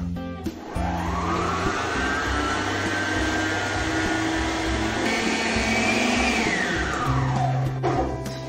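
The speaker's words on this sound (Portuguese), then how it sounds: "Eu vou colocar para bater até dobrar de volume por 15 minutos." Electric stand mixer beating cake batter at high speed, a loud continuous motor whine that ramps up, holds steady and winds down near the end, with no talk over it.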